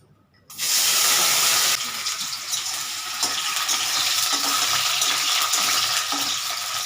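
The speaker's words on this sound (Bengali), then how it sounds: "আমার তেলটা গরম হয়ে গেছে। এবার আমি আলুগুলো ছেড়ে দিচ্ছি।" Potatoes slid into hot oil for ghugni burst into a loud, dense sizzle that starts suddenly after a brief quiet, stays intense for about a second, then settles into a steady, slightly softer frying hiss.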